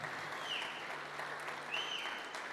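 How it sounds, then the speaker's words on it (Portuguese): A church congregation claps in praise during a sermon, a soft, fairly distant patter of applause that holds steady for a couple of seconds. "dá uma grande salva de palmas ao Senhor, por aquilo que Ele está fazendo"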